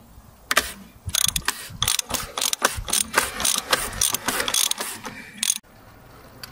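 A ratchet cranking loose the sump plug on a BMW 435d during an oil change, a close burst of rapid clicking strokes in uneven bursts, then stopping abruptly.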